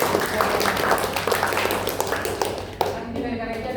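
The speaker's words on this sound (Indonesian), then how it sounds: "ini tepuk tangan itu" A group of people at a community outreach gathering clap their hands in brisk, fairly loud applause that stops abruptly near the end, followed by quieter room sound.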